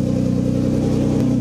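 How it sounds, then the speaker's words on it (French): A car engine turns over and settles into a steady, close idle that runs unbroken, with a slight shift in tone near the end; no voices. "Super, la voiture démarre."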